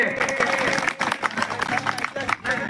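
Crowd clapping at a village wrestling match in Maharashtra, a dense outdoor patter of applause mixed with shouting voices and a loudspeaker announcer talking over it.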